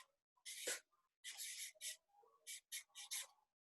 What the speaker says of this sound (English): Good, I need to write a P.